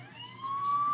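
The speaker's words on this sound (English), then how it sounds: "Oh, there's a police car. Now I'm in trouble." Police car siren in the Grand Theft Auto video game, a single rising wail climbing steadily and growing louder over about a second, clear and alone.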